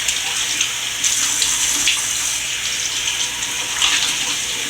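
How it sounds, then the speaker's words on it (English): A bathroom tap runs continuously while someone washes their face, a steady close splashing rush at an even level with small swells as hands move through the stream. "I love when I put water on my face"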